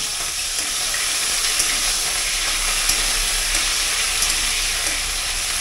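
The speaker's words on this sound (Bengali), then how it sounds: "প্রথমে দিয়ে ব্রোকলিগুলো ছাড়লাম" Broccoli frying in a hot wok gives a steady, dense sizzle and hiss that continues unbroken at close range, with no talking.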